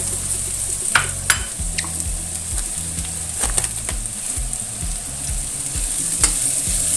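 Tempeh is stirred into a frying vegetarian stir-fry, with a spatula scraping and knocking rhythmically against the pan over a steady sizzle and no voices.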